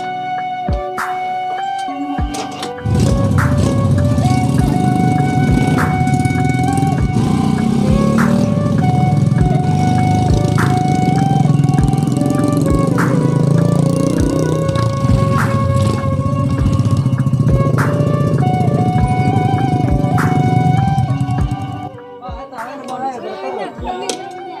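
A motorcycle engine runs close by, holding a steady, loud rumble with a tonal whine for about twenty seconds before cutting off. Voices are heard over it.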